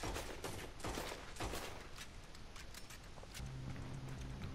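Semi-auto pistol and Mauser pistol fired from the hip in Red Dead Redemption 2, a fast ragged volley of sharp cracks over a steady noisy bed, fairly faint and quick-paced.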